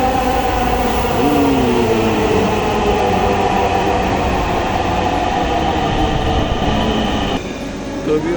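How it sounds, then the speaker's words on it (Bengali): A train rumbles loudly into a station, a continuous heavy roar with a brief squeal of wheels as it slows. "ওই যে ট্রেন আইসা পড়লো রে"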